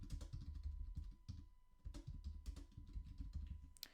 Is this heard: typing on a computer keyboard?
yes